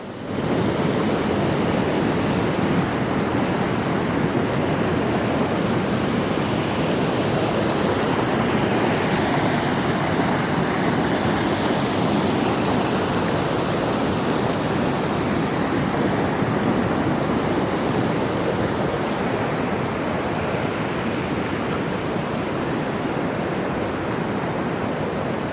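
Flood water rushes loudly under a bridge and through culverts, a dense, unbroken roar that holds steady throughout with no voices.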